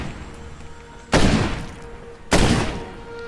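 Two loud shotgun blasts from the zombie game State of Decay, about a second apart, each a sharp, booming report with a short decaying tail over a quiet background.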